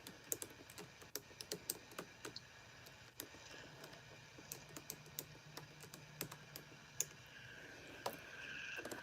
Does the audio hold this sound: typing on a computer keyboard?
yes